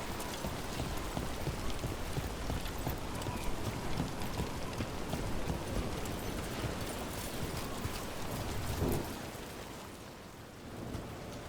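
Heavy rain in the video game Dragon Age: The Veilguard, a dense, constant hiss of falling water that holds steady and then eases slightly near the end, no talking.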